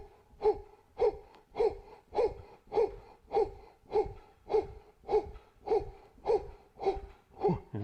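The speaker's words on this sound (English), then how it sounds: "Okay, power breathing." Power breathing exercise: a steady series of about thirteen sharp, forceful breaths, each a short gasping burst at a regular rhythm of roughly one every 0.6 seconds, close and clear with no talking.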